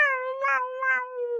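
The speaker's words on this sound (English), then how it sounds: "Cat fight happening outside" Cats fighting outdoors give a sustained, wavering yowl with a tonal, howling quality, rising and dipping over about a second and a half, heard fairly clearly through a window.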